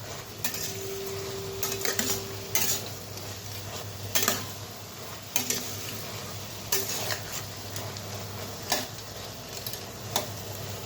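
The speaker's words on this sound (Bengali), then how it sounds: "ভালো মতো এখন মিশিয়ে নেব।" Black chickpeas and taro being stirred in a pan as a curry cooks, with a spoon scraping and tapping the pan at intervals over a quiet, steady sizzle.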